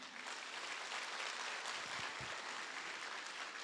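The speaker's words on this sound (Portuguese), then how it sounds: "Ah, querida, aplaude o Senhor aí." A church congregation applauding during a worship service, a steady wash of clapping that holds evenly at moderate level throughout, with a couple of low thumps partway through.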